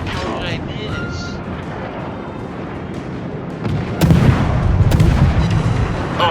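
Gunfire from a boat combat video game, with steady game noise building into a loud burst of booming shots about two-thirds through; a voice may be present.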